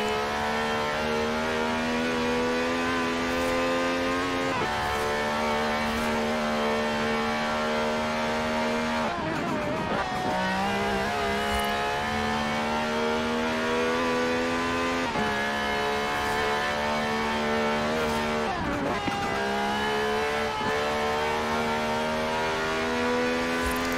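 A 2016 Dodge Viper ACR's V10 roars steadily through Forza Horizon 4 at high revs, with brief dips around gear shifts or lifts before climbing again, loud and continuous with no talking.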